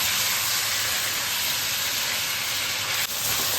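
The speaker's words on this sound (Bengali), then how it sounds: "এবারে তেলটা গরম হয়ে গেছে, আমি এগুলো মাখানোগুলো ঢেলে দিলাম। গ্যাসটাকে জোরে রেখে 5 মিনিট ভালো করে ভেজে নেব এগুলোকে।" An egg, capsicum and soya chunk mixture fries in hot oil over a high gas flame, giving a steady, dense sizzle that holds evenly throughout with no voices.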